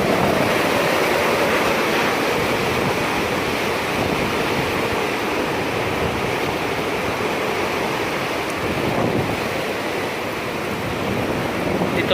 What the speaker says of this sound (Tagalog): napakalakas po ng hangin